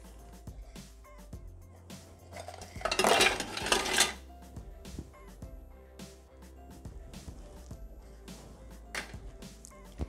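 Dry biscuits tumble and clatter into the steel mixing bowl of a Thermomix (Bimby TM6/TM5) for a cheesecake base, a brief rattling burst in the middle amid quieter kitchen clinks and taps.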